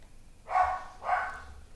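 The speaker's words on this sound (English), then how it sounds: "Shiro, stop barking" A dog named Shiro barks twice indoors, two fairly loud, close barks about half a second apart over a quiet room background.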